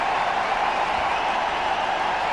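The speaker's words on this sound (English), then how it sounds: "The crowd's excited." A dense, steady roar of a large stadium crowd at an India vs England cricket match, loud and unbroken without distinct voices.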